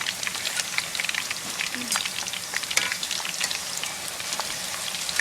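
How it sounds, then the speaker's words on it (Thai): Homemade potato chips frying in hot oil while being stirred, a dense steady crackling sizzle with scattered sharp pops and occasional scrapes, close and continuous throughout. "เราก็จะคนไปเรื่อยๆนะคะ จนกว่ามันจะกรอบและสุกเหลืองค่ะ"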